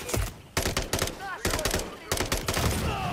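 Automatic gunfire in the video game Call of Duty: Modern Warfare 3 rattles in several loud, rapid bursts separated by short gaps, close and punchy.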